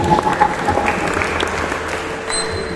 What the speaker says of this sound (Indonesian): Makanya saya kasih aplaus poin itu buat Mas Elga sendiri.